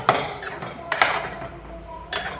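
A metal spoon stirs gongura chicken with chillies and onions in a pot, producing a few sharp clinks and scrapes against the metal in short bursts with quiet gaps.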